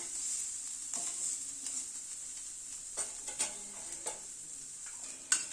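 Grated coconut and spices fry in a pan with a soft continuous sizzle, while a spoon stirs and scrapes in occasional clinks against the metal, close and quiet.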